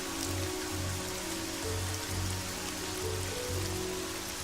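Steady rain falling in the game Evoland 2, a dense, even hiss over a looping background tune with a soft rhythmic low pulse.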